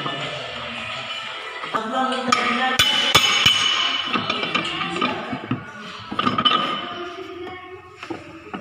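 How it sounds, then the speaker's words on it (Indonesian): A hammer taps a counter gear shaft into a manual transmission, with a run of sharp metallic clinks at an uneven pace, close by. "Kita palu-palu secara perlahan sampai masuk."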